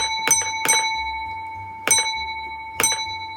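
Railway signal box bell rung in code, four sharp metallic strikes in groups — two quick, a pause, then two spaced single rings — each with a bright ringing decay over a steady background hum.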